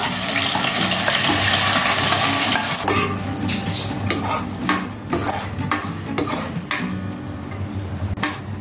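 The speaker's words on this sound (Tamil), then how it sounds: "நல்லா பச்சை வாடை போகிற அளவுக்கு நல்லா வதக்கி எடுத்துக்கலாம்" Ground paste of tomato, onion, pepper, cumin and garlic sautéing for a fish curry, a loud sizzle at first, then brisk metal stirring and spoon clatter against the pan over a softer frying hiss.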